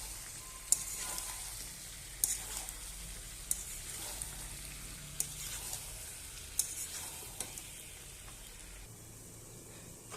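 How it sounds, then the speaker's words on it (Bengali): Pumpkin pieces sizzle and fry in a pan with chicken skin, stirred with a utensil that knocks and scrapes in scattered taps over a steady, moderately quiet sizzle. "এবার আমি এখানে মিষ্টি কুমড়া দিয়ে দেব, দিয়ে ভালোভাবে নাড়বো।"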